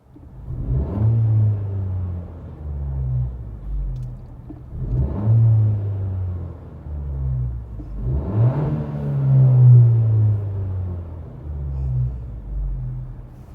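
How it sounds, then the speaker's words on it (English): Phone recording of a car engine revved three times, each rev slowly hanging and winding back down before the next, a loud close rumble with no talk. "In terms of driving, the only complaint I have is rev hang. Let me just show you how bad it is."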